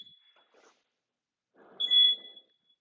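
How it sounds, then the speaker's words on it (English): A workout timer gives faint high electronic beeps, a brief one at the start and a louder, slightly longer beep later, set against near silence. "So I'm going to turn my timer off so it stops beeping."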